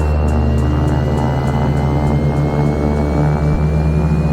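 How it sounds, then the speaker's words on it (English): Left engine of a King Air 350 turboprop spooling up in X-Plane 11, a loud continuous whine with a slowly rising tone over a steady low drone and faint regular ticking. "And now we're gonna do a left engine start."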